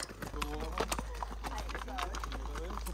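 A horse trots on a tourist ride in Viñales, Cuba, its hooves clip-clopping in a quick, steady rhythm close by while people talk over it.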